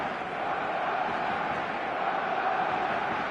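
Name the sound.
stadium crowd noise in eFootball video game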